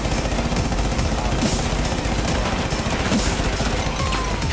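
The Alda machine gun in Rainbow Six Siege fires in a sustained rapid burst, loud continuous gunfire with dense overlapping shots filling the whole stretch.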